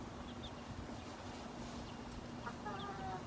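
Chickens clucking faintly at feeding time, scattered brief calls over a steady outdoor background with no talk.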